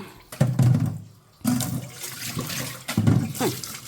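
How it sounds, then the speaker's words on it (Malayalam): Used washing water is tipped out of a kitchen vessel in three loud, close splashing gushes, with short pauses between the pours. "ഇനി കഴുകുന്ന വെള്ളം കളഞ്ഞിട്ട്"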